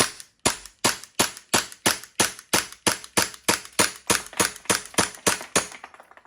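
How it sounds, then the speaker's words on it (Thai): A WE Galaxy gas blowback airsoft pistol fires about sixteen sharp, evenly spaced shots in a quick steady rhythm, each crack loud and close with a short tail, then falls silent. "ยิงยัดรูได้อยู่ ก็ยิงโดยเฉลี่ยแล้วก็ประมาณสัก2แม็ก"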